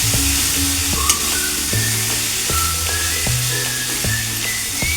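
Tomato curry with chili powder sizzles steadily in a pan while a spoon stirs it, with repeated scraping strokes over the continuous frying hiss and a faint whistle-like tone, no voices.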